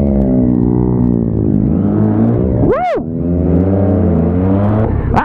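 A Yamaha XJ6 motorcycle engine revs up and down nearby, its harmonic whine rising and falling, with one sharp high rev spike partway through.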